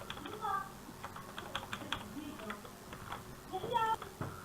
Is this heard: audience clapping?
no